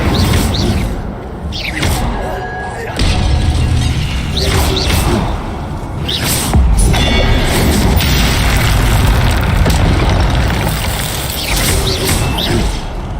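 Spell effects from Hogwarts Legacy, with the Incendio fire spell among them: loud, steady magical booms and whooshing bursts repeating over a continuous game soundscape.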